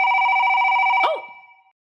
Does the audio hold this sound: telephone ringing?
yes